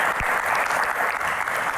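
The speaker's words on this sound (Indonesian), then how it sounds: "Tepuk tangan buat Mas Yofi" A studio audience at a Metro TV talk show applauds steadily, a dense, loud wash of clapping that lasts throughout with no pause.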